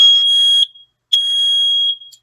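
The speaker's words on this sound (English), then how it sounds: "To test your smoke detector, you just simply hold the test button" Two loud, piercing electronic alarm beeps from a nearby smoke detector, each lasting well over half a second, separated by a short silence.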